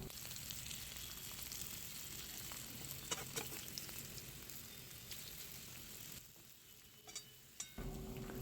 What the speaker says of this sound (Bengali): এগুলো সুন্দর লাল লাল করে ভেজে নিতে হবে আলু ভালো করে না ভাজলে এই তরকারিতে কিন্তু টেস্ট আসবে না